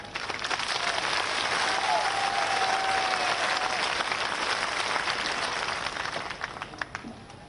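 Sustained applause from a crowd at a BJP political rally in Sihoniya, Ambah, Madhya Pradesh, a steady dense clatter of many hands lasting throughout, with faint voices mixed in and a slight tapering at the end.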